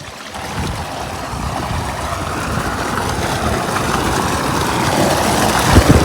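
Fresh hot water gushing steadily from an outdoor source in a rural farm setting, a loud continuous rushing flow that builds slightly toward the end, with no talk over it.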